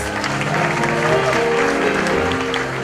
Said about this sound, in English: Let's give all our recipients a round of applause